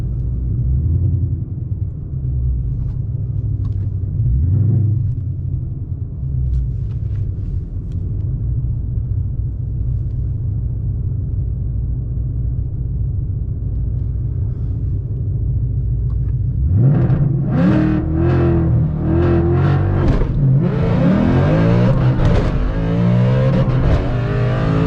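Whipple-supercharged 2013 Ford Boss 302 Mustang doing a burnout, a loud steady rumble for over fifteen seconds, then a hard launch with sharp rising revs through several gear changes, close and without voices.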